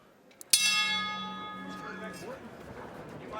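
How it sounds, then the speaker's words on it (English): A boxing round bell rings once, loud and close, then its bright metallic tone decays slowly under the hum of the arena. "Here comes the bell."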